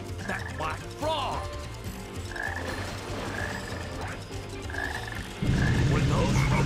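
A black frog croaking in the Sonic Heroes video game, with repeated short croaks at a loose rhythm over game music, which grows louder near the end.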